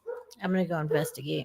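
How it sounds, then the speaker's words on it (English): A pet dog barks at someone pulling into the driveway, with the barks mixed under a person talking close by. "I don't know if you can hear my dog barking."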